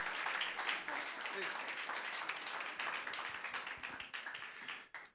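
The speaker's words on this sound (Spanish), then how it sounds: "Un aplauso a Cristo, por favor." A church congregation at a Sunday service applauds for Christ, a dense, steady wash of many hands clapping at close range that runs almost five seconds before cutting off abruptly.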